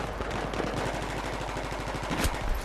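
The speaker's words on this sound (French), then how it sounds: "Fusil à pompe ça pardonne pas" Gunfire in the online shooter Battlefield 3, with a shotgun among the weapons, comes as a rapid burst of sharp reports under continuous battle noise, ending in a louder blast near the close.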